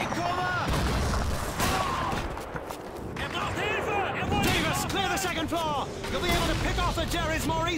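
Gunfire from a machine gun in Call of Duty, bursts of shots and booms heard close, with a voice talking over much of the firing.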